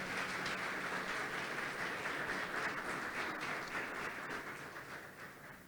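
Church congregation at a special Friend's Day service applauding, a steady dense wash of many hands clapping throughout, fairly distant and gradually fading slightly toward the end.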